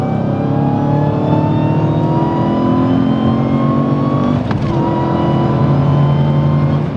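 A Dodge Challenger or Charger Hellcat's supercharged engine roars steadily and loudly at high revs, with a strong exhaust drone and supercharger whine that hold throughout, briefly dipping midway.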